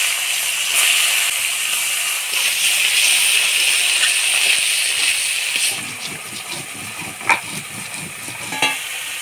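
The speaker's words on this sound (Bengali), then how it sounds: "এবার এই তেলের মধ্যে আরেকটু তেল দিয়ে চিংড়ি মাছগুলো ভেজে নেব।" Prawns frying in hot oil in a pan, with a steady close hiss and sizzle throughout, easing a little near the end as a few utensil clinks and scrapes come through.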